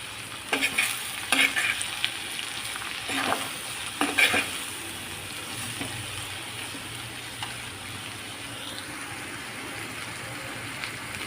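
Onions for an egg curry, sprinkled with a little salt, are sautéed in a pan, giving a steady soft sizzle broken by a few sharp spoon scrapes and clinks early on, with no voices.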